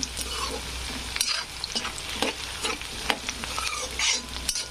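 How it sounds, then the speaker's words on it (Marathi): Onions and peanuts fry in a pan for kanda poha and are stirred continuously, with a steady close sizzle broken by repeated spatula scrapes and knocks against the pan. "असं कांदालाही जास्त लाल भाजू द्यायचा नाही, मध्यमच ठेवायचा।"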